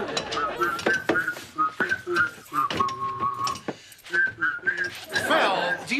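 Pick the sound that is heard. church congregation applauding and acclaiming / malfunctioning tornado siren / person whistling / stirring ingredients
person whistling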